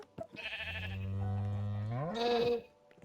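A sheep in the Minecraft video game bleats in one long, wavering, nasal call that rises in pitch toward the end, clear and close with nothing else around it.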